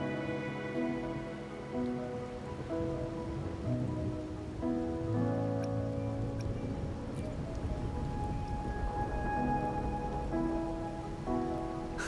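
Steady rain patters down in the video game Wuthering Waves, a constant even wash of drops that runs the whole time under a soft layer of background music.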